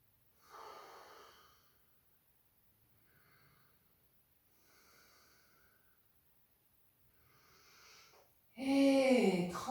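Slow, deep breaths drawn in and out during a yoga posture, several soft, faint inhales and exhales separated by quiet pauses, followed by a louder voice at the end.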